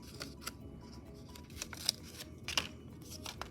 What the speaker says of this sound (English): If I cut a triangle like this,